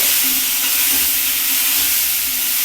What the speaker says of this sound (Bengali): ফুলকপিটা একটু হালকা করছি এইভাবে ভাজবো